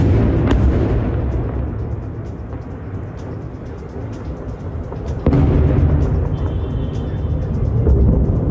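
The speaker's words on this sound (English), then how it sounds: "Several consecutive explosions took place at a site in eastern Tehran." Several consecutive explosions from strikes at a site in eastern Tehran, heard in news footage as deep booming rumbles with a sharp blast midway, loud and sustained throughout.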